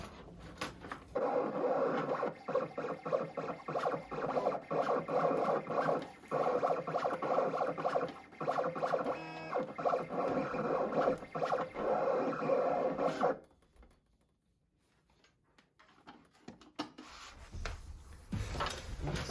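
A vinyl cutter slices adhesive vinyl for a car decal, giving a steady rasping, scraping drone that runs for about thirteen seconds with brief pauses before stopping abruptly, leaving faint quiet.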